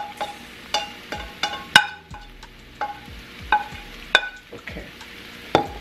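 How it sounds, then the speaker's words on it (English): Spinach being stirred into a cassava egg casserole mixture in a cast iron skillet, with sharp utensil scrapes and clinks recurring every second or so over a faint, steady frying sizzle, close and with no voices. "So we're gonna introduce the spinach."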